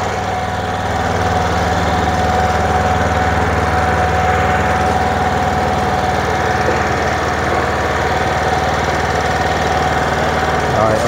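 A used Japanese Yanmar OHV 6-horsepower walk-behind tiller and bed-forming machine runs close by with a loud, steady engine drone and vibration, unbroken for the whole stretch.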